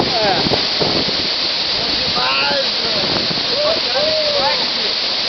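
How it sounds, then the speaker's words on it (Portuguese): A waterfall roars in a steady, loud rush close by during a bike ride in Brazil, and people talk over the constant noise of the falling water. "Eu vou entrar nessa cachoeira aí"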